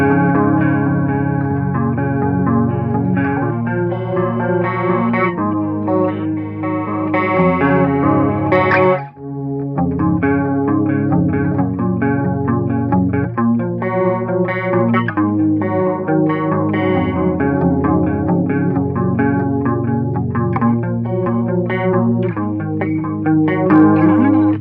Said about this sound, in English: So the intro bit, like I've said, you've got chorus on, neck pickup here, and you've got the distortion off.